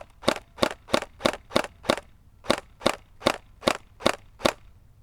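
An S&T mk3 G36C airsoft gun firing twelve sharp, close cracks in a steady semi-auto rhythm, with a brief pause after the first six shots, and nothing else audible.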